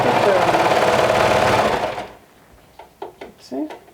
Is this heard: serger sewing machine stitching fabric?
yes